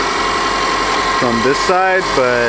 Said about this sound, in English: I hear a small, what sounds to me like an exhaust leak